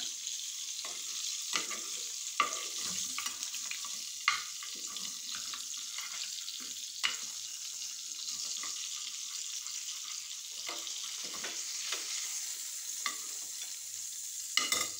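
Fish pieces frying in groundnut oil: a faint, even sizzle runs throughout with scattered light crackles and occasional soft utensil clicks, quiet and steady with no talking.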